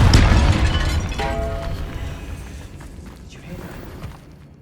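A Confringo blasting spell going off in a tomb in Hogwarts Legacy: a loud booming burst at the start, then a crackling, rumbling tail that slowly fades over several seconds.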